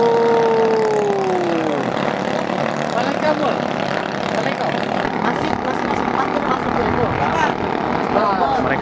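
Racing speedboats, 3-metre super speed class, engines roaring loudly and continuously on the water, with pitch sweeps as boats pass, while a commentator talks over the noise.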